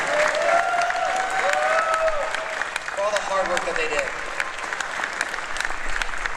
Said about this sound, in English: Everyone, let's give them another round of applause as they all come out.